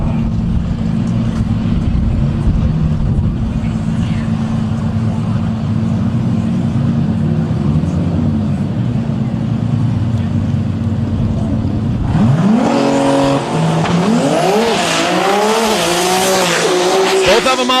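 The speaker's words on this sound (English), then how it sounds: "Pair of GTRs on the starting line, Cole and Chuck Cadman." Two Nissan GTR drag cars staged at the starting line of a drag racing event, one flat purple with a black spoiler and carbon fiber hood, idling loudly and then launching hard with screaming, rising engine notes that climb through the gears.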